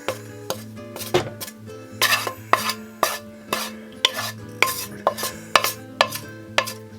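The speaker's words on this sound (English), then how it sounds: "you can now add your onion, garlic and thyme and stir that in." Onion, garlic and thyme stirred into a vegan pie filling in a pan, with a regular run of scraping spoon strokes and clinks against the pot over a soft, steady sizzle, close and clear.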